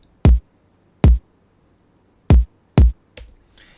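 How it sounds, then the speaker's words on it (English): Four punchy electronic kick drum hits from a Logic Pro stock kit, each with a deep booming low thud, spaced irregularly and played alone in a dry mix, followed by a softer tail of faint sound. "And it's just a simple kick from the Kicks electronic kicks."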